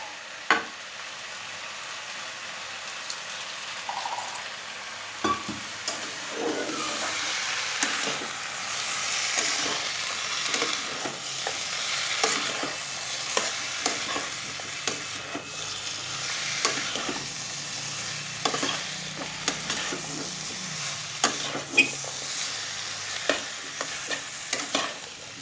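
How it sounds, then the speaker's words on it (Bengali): Potatoes and spice pastes (cumin powder, chili powder, ginger paste, cashew-raisin paste, nut paste, sugar) stirred together in a pan for vegetarian aloo dum: steady scraping and soft sizzling, with frequent spoon clicks throughout, no talk. "জিরে গুঁড়ো, লঙ্কার গুঁড়ো, আদা বাটা, কাজু কিশমিশ বাটা, বাদাম বাটা, চিনি, সব উপকরণ একসঙ্গে দিয়ে ভালো করে মিশিয়ে নেব"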